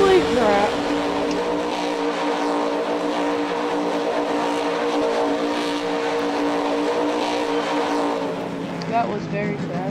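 A vehicle speeds on nitrous in Farming Simulator 19, its engine roaring in a loud, sustained, high-revving drone that wavers slightly in pitch and eases off near the end.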